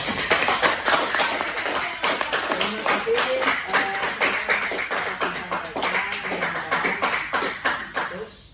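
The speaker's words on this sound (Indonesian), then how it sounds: "Boleh tepuk tangan untuk saudara" In a classroom, a small group claps for a student after a mathematics presentation on probability, the sparse, uneven claps close by and fading toward the end, with a short spoken thank-you.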